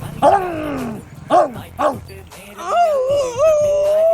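A dog gives a few short yelps and whining yips, then a longer drawn-out whimper, loud and close. Voices are mixed in around the sounds.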